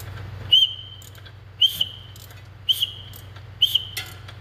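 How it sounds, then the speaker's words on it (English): Four evenly spaced, high, thin whistles from a compression whistle threaded into an engine's spark plug hole as the engine is turned over, each a short burst settling into a steady tone, over a low mechanical hum. "as it comes up on compression, it'll make a whistle sound"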